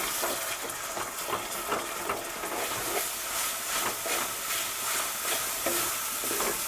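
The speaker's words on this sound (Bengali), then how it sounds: "একটু সামান্য জল দিয়ে মশলাটা কষাবেন" Bengali spice paste for aloo dum, made with chili powder, turmeric and a little water, sizzles and hisses steadily in a pan while it is stirred, with scraping strokes close by and no voices.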